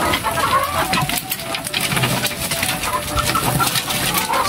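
RTL laying hens in a backyard egg farm pecking at laying mash, with a busy mix of clucks and bird calls from many birds close by, steady and fairly loud, plus faint feeding rustle.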